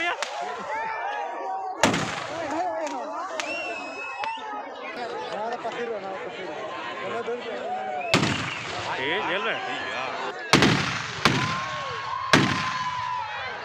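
Firecrackers bursting at a Ravan Dahan festival, several sharp loud bangs spaced through the clip over a dense crowd of chattering voices and festival noise.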